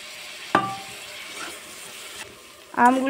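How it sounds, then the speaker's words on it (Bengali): Chilli paste mixture sizzles in a frying pan while being stirred, a steady hiss with a couple of sharp scraping clatters from the spoon near the start and end. "সব কিছু সুন্দর করে একটু নাড়িয়ে চাড়িয়ে নিচ্ছি"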